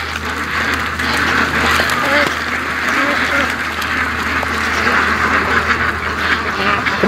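A flock of Muscovy ducks quacks continuously close by in a swampy outdoor pen, overlapping calls forming a busy, unbroken chorus with no one speaking.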